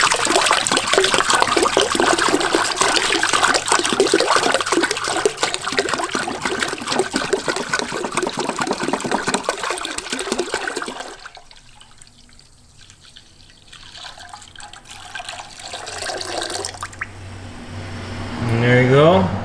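Antifreeze coolant pours from a jug into a 5-gallon bucket during BMW E46 330xi thermostat work, a loud continuous splashing gush that cuts off midway, followed by quieter trickles and drips.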